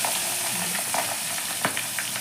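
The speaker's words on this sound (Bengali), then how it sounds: "এবার আমি মাছগুলোকে ঢাকা দিয়ে দিয়ে ভেজে নেব" Boal fish fry covered in hot oil, giving a dense, even sizzle close by, dotted with small crackles and a few soft clinks from the pan.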